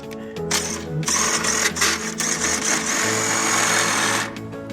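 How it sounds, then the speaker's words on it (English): A power drill driving a socket whirs in a few bursts, then spins steadily for a longer stretch, close up and fairly loud, on a 2026 Keystone Bullet Classic RV. "So I'm gonna take this drill and show you what you could do with this socket."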